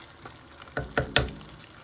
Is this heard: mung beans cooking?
yes